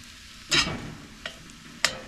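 Potatoes and Spam fry in a camp pan on a cold morning, a steady close sizzle broken by three scraping stirs, one long and two short, with no talk.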